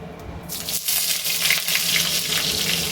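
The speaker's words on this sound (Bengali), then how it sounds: "আলুটা একটু ভাজি" Potatoes frying in a pan for a Bengali banana-flower ghonto, a close, continuous sizzle that swells after a quieter start and stays steady and loud.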